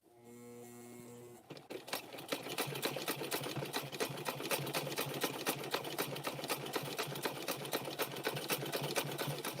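A sewing machine runs steadily while stitching fabric strips around rope for a handbag, its rapid mechanical stitching chatter loud and close after a brief quieter start.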